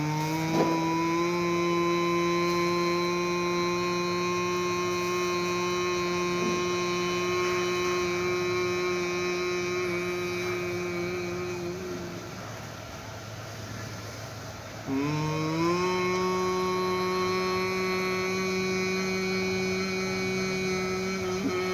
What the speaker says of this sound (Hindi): ये हमारी भ्रामरी चल रही है। इसको महाप्राण ध्वनि भी बोलते हैं।